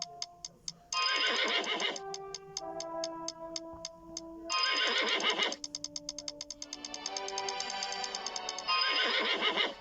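Horses in the Photo Finish horse racing video game, several loud whinnies in long bursts alternating with rapid ticking menu clicks, close and clean with no voices.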